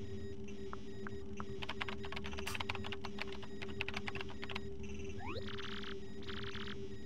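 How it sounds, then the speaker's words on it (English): Keyboard typing in the video game Paper Mario: The Thousand-Year Door, a quick run of soft clicky keystrokes over a steady electronic hum, followed by a few rising beeps and tones. "Use the keyboard to send whatever message you want."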